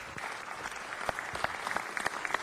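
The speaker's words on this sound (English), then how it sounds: "Come on, let's give him a round of applause as well." Audience applause fills a city council meeting chamber, a steady wash of many hands clapping with a few sharper claps standing out, moderately loud and continuous throughout.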